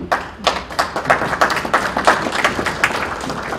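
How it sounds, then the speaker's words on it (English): An audience at an evening panel discussion on civility and democracy claps, giving brief, fairly sparse applause with distinct individual claps close by. "I personally think you deserve more applause than that"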